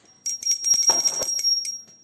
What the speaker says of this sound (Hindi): तो पहले हम घंटी बजा लेंगे।